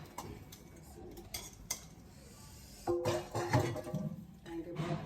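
Dishes from tea are scrubbed and washed outdoors on a cold, windy day, with irregular clinks and clatters of metal utensils and pots, close by, over a low breezy background.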